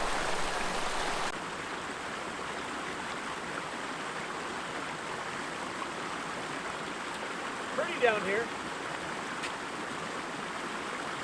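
Creek water flows steadily in a forest canyon, a soft, even rushing wash at a moderate distance, with a person briefly talking over it.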